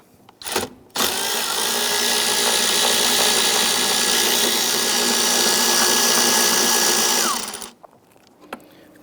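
A ratchet with a short extension works a 10mm bolt loose on a 2011-2021 Jeep Grand Cherokee 3.6L V6, giving a loud, steady whirring run of about six seconds that stops abruptly, with no one speaking.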